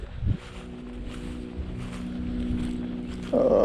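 Wind gusting across a river, a steady broadband rush with low buffeting rumble on the microphone, continuous and fairly near, with a brief louder thump at the start and a rise at the end.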